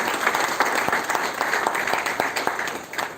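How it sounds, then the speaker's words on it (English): Applause fills the hall at the ISSGPUCON 2024 international conference, as the audience claps for the international speakers in a brisk, fairly close burst of individual hand claps that fades slightly at the end. "I wanted to give them a big round of applause for all the 6 international speakers."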